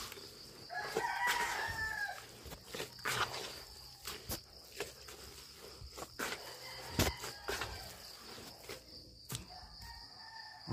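Chickens cluck and call close by, with a rooster-like crow early on, scattered sharp knocks, and a faint insect chirp in the background.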